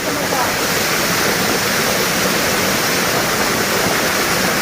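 Forest waterfall in the Konkan countryside: a loud, unbroken roar of falling water, close and steady, filling the whole soundscape with broadband rushing noise.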